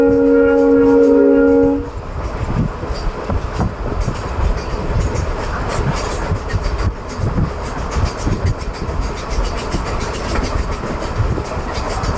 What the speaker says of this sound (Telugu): మన ట్రైన్ వచ్చేసి బ్రాహ్మణగూడెం హాల్ట్ రైల్వే స్టేషన్ అయితే స్కిప్ చేస్తున్నాం.